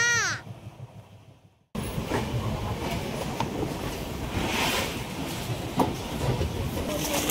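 An Indore–Kochuveli Express train rolls near Vasai Road, a steady loud rumble with faint clacks after a quiet opening where crows call, broad noise filling most of the stretch.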